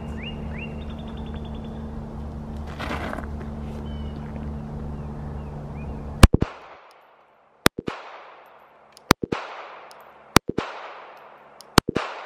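Glock 42 pistol fired on a range at 7 yards: six sharp, loud gunshots ring out at roughly one-second intervals with brief echoes, preceded by several seconds of steady background rumble and a short clatter.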